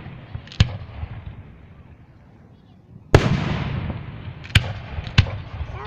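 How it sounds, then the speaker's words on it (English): Several sharp bangs from a fireworks display in North Andover burst out, one early and three in the second half, each leaving a crackling tail, with a busy outdoor crowd murmuring underneath. "They're the fireworks. They're all different kinds of them."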